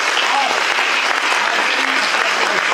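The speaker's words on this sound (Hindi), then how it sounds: "अभिजीत, धनश्री और हमारे मेंटर के लिए और एक बार तालियां बजाइए।" Steady, dense applause from an audience at a Hindi children's theatre play, filling the whole moment at close range with no break.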